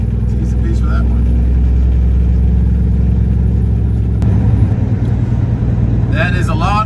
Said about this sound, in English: everyone just started going again from that truck that was stalled out there in the left lane